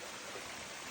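Water flowing in a natural stream, a constant, broad rushing wash, moderately loud and unbroken, with no speech over it.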